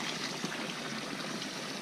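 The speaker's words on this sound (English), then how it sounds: "I don't know if you can see, the water is actually flowing in there, and it comes into this outlet" Steady water flow through the outlet of a recirculating garden pond system, a continuous trickling, splashing wash heard close and alone with no talk.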